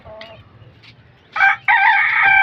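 An aggressive pet rooster crows loudly and close, a rough crow following a few clucks and short calls, with no talking.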